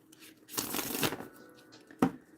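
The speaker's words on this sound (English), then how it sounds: "I feel compelled to shuffle 3 times with this one as well" Tarot cards are shuffled by hand in a close, dry riffling burst lasting about half a second, followed by a sharp tap as the deck settles, with no talking.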